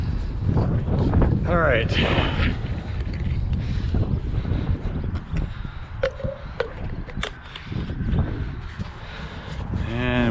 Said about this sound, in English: It's a little breezy out, so things are blowing around a little bit.